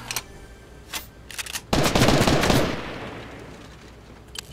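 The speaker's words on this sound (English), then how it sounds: "Stop shooting at me." Rapid gunfire in Fortnite on Nintendo Switch: a few scattered shots lead into a dense, loud automatic burst lasting over a second, which then tails off into quieter background game noise.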